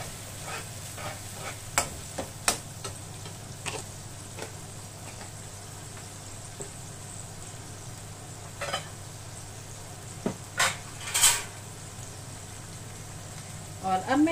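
Spices for mutton pulao, shahi jeera and crushed chillies, sizzle in a pot as a spoon stirs with occasional knocks and scrapes over a steady low frying hiss, while someone talks quietly.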